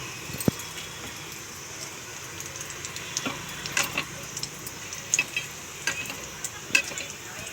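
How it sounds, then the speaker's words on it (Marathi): Chili vadas frying in hot oil over a low gas flame, a soft continuous sizzle broken by scattered crackles and pops at close range, with no voices. "याप्रमाणे आपण सर्व वडे तळून घेऊ"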